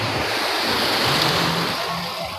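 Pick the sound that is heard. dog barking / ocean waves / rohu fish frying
ocean waves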